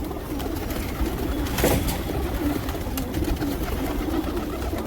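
Patiala pigeons coo in a loft, soft repeated low calls over a steady background hum, with a brief flutter partway through and no talking.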